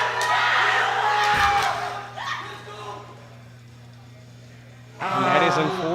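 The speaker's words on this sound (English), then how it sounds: "And the crowd is going wild." Spectators at a women's classic powerlifting championship roar loudly, then the noise fades to a low murmur before a second burst of cheering rises near the end, with talk mixed in.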